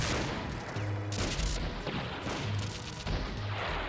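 Missiles and heavy weapons firing at cargo in the video game Front Mission 3 come as a dense, continuous barrage of booming blasts and explosions with no talk.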